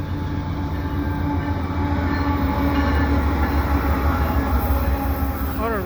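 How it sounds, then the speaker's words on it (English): A CP freight train with auto racks rumbles past up close at Dorval, Montreal, in winter, loud and continuous, its wheels grinding and rattling steadily along the rails. "Looks like I got a CP freight."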